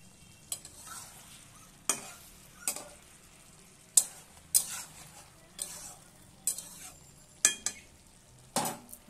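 Vegetables and prawns for a Malabar spinach prawn dish frying in a pan while being stirred, with about a dozen sharp utensil scrapes against the pan at irregular intervals over a quiet background sizzle, close by.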